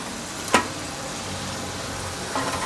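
Celery and carrot vegetable fritters fry in hot oil, a steady soft hiss with a single sharp clink near the start, close and without talk.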